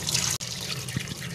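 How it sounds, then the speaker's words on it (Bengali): Water runs from a tap over raw chicken being washed in a sink, a steady close splash with a brief break and a couple of soft knocks. "এখানে যে মাংস এটাকে আমি ধুয়ে এখন পরিষ্কার করব।"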